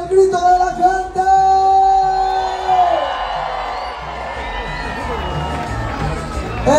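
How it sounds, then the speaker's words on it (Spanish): Crowd at a hot-air paper balloon contest in Zozocolco, Hidalgo, 2023 shouting and cheering in a sustained loud roar, with whoops and children's cries over a steady wash of festival noise. "El grito de la gente que le gustó el globo."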